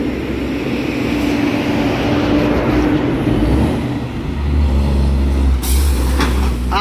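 Heavy trucks rumble loudly over a road speed bump on a rough Colombian highway, with continuous low engine drone and a brief hiss of air brakes near the end.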